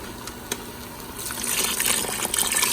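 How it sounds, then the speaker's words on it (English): Water pours into an Instant Pot holding chana dal, a steady close splashing trickle that grows fuller and louder midway through as the stream builds, with no one talking. "2 cups of water."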